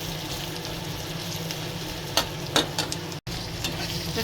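Garlic fries in hot oil in a pan before mustard greens go in, a steady close sizzle punctuated by a few sharp stirring scrapes and a momentary cut near the end.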